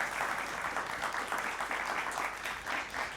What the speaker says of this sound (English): Big round of applause for Team Next Play AI